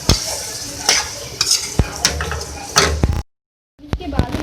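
Beef keema frying in a pan with soy sauce added, stirred with steady scraping and sizzling, a short silent gap, then more stirring sounds.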